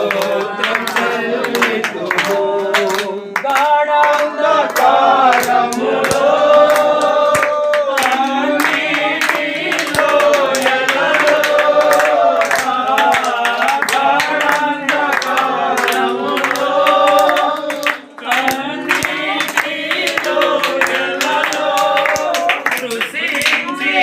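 A congregation claps loudly and steadily in time during a Telugu worship song, with singing carrying over the rhythmic hand claps throughout.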